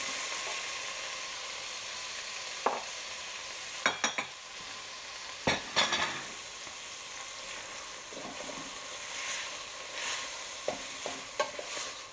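Meat and a large onion frying and being stirred in a pot for Algerian chorba frik soup, a steady sizzle with sharp scrapes and clinks of the stirring utensil, close and alone.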